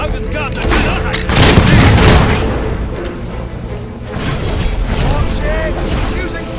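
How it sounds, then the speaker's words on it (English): Fire magic attack in the video game Fable 3: loud booming blasts and rumbling bursts, with voices heard over the combat. "Watch it! He's using fire magic!"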